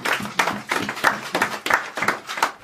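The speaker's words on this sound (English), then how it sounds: "Wow, clap for Jesus." A church congregation claps and applauds during a baby christening service, a dense, continuous patter of many hands with rhythmic surges, moderately loud and close, with faint voices mixed in.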